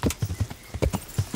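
Horse hooves clopping in the video game Kingdom Come: Deliverance, a steady rhythmic gait, several clear thuds close by with slight reverb, no talking.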